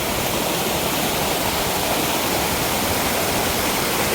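A waterfall at a forest cascade roars as a steady, dense wash of rushing water, loud and close, with no other sounds.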